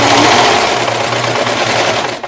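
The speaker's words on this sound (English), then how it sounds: "I like to go ahead and serge or zigzag this raw edge right here" A serger or sewing machine stitching a zigzag along a raw fabric edge on a sailor gaiter, a loud, close, continuous fast mechanical whir that stops abruptly at the end.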